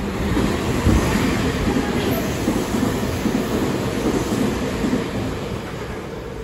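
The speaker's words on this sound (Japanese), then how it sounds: "まもなく2番線に電車が参ります。" Commuter train pulling into track 2 at Meitetsu Sanno Station: a steady, loud broadband rumble and hiss from the platform, continuous throughout with no talk.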